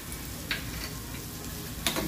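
A spoon stirs a gaboli wild-vegetable dish topped with coriander in a sizzling pan. Two brief scraping strokes rise above the steady close hiss, with no talking.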